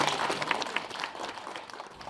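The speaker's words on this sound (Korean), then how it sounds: "큰 박수로 환영해 주시기 바랍니다." Guests at a traditional Korean 60th-anniversary wedding ceremony reenactment clap to welcome the elderly bride and groom, with scattered, fairly soft applause from a crowd heard at some distance for a couple of seconds.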